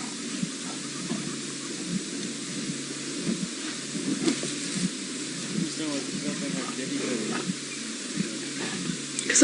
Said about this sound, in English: I can't work out who is actually growling.